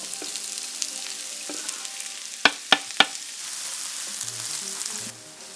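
Onions sautéing in oil for a vegan green bean casserole give a steady soft sizzle, with three sharp utensil knocks on the pan near the middle and light stirring.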